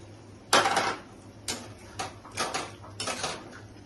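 Lid being placed over a pot of mutton kosha: a series of metallic clanks and scrapes, a sharp first knock followed by several softer rattles as the cover settles, near and clear.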